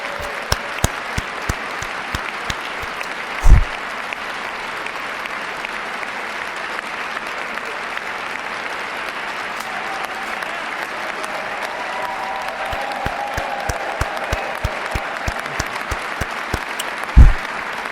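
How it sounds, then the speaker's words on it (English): Sustained applause from a large crowd at Donald Trump's 2025 presidential inauguration speech, dense clapping continuing steadily for the whole stretch with no letup. "a long round of applause for that one"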